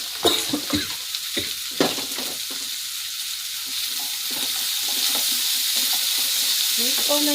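Sweet corn fries and sizzles in a pan, with a steady close hiss and a few early stirring scrapes over about seven seconds.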